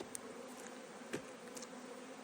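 Honeybees buzzing steadily around an open hive at a wilderness apiary in Finland while a beekeeper works the frames, a faint continuous hum with a few brief louder passes close by.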